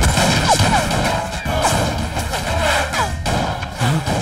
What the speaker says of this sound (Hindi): अंदर फायरिंग हो रही है सर